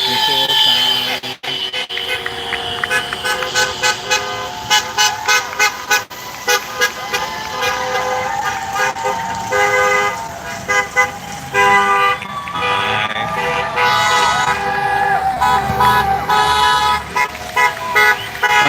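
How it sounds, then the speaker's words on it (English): Car horns from passing traffic honk repeatedly at a street protest in Homewood, Illinois, sounding loud and near in short bursts over steady road noise and crowd chatter. "Plenty of people honking, going by, show their support."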